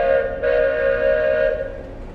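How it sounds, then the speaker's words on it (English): A train pulling away in a spooky holiday tale, heard as a steady, loud, sustained whistle-like tone over a low rumble for about two seconds, with no talking. "The train started moving"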